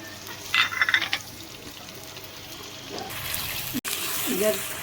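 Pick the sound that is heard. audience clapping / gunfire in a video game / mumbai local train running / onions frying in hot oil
onions frying in hot oil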